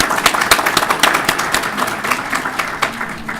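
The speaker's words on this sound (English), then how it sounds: "Round of applause, sir." An audience at a talk on colon health gives a round of applause, lively, close clapping from a modest crowd with distinct sharp claps, sustained throughout.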